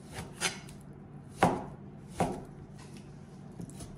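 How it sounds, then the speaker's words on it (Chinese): Meat being chopped with a knife on a board into mince, a few sharp isolated thuds spaced about a second apart with quiet handling sounds between, close and clear with no talk. "切完了以后，一气乱剁，再给它剁成肉馅儿"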